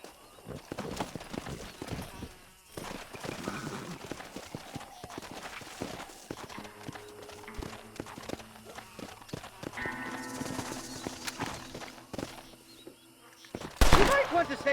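Horse hooves clip-clop at a gallop in Red Dead Redemption, a rhythmic stream of hoofbeats with scattered game effects and faint voices over it, and a louder burst near the end.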